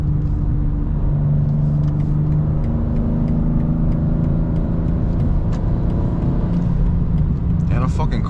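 A 2026 BMW G80 M3 driving fast on a highway gives a loud, steady engine and road rumble that holds throughout, with a brief burst of higher noise near the end.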